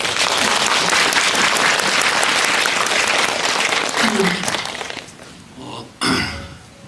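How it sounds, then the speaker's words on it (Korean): A cinema audience at a film screening with the director bursts into loud, sustained applause that fades out after about five seconds, followed by a short voice and a sharp noise near the end. "박수 쳐주세요"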